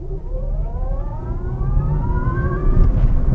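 A Wheego electric car with a worn wheel bearing accelerates hard on a test drive, giving a rising whine that climbs steadily in pitch over a loud, constant road rumble, with no talking.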